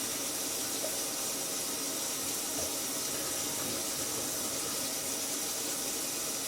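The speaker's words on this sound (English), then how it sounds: "I see the water bubbling through here." Water bubbling through a kitchen sink drain under a newly installed garbage disposer and faucet set: a steady, dense rushing and gurgling wash of water, close and continuous, with no talking.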